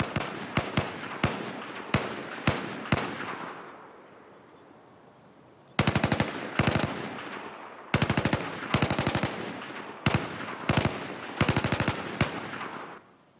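Battlefield 4 test range gunfire in a video game: rapid automatic bursts and single shots at irregular intervals, sharp and loud, separated by a long fading reverberant tail and short gaps, with no voices.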